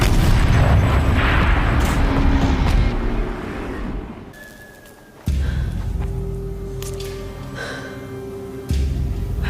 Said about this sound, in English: Rotate turret! And fire!